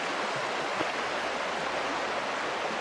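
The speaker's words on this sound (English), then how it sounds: "Creek right there." A backcountry creek flows steadily nearby, a soft continuous rush of running water with no voices.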